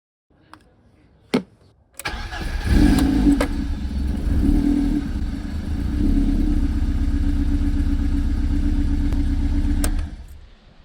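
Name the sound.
BMW E30 318is M42 engine starting and running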